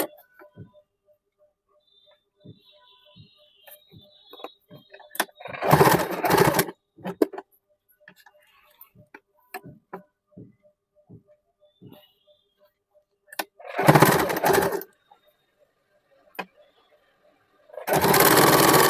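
A sewing machine stitches folded saree fabric in three short, loud bursts, with quiet clicks and handling noises in the gaps between runs.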